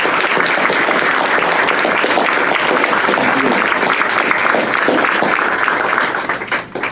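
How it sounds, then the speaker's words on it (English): At a county commissioners' meeting, an audience gives a round of applause to celebrate local youth. Dense, loud clapping fills the room steadily and then tapers off at the end. "So how about another round of applause?"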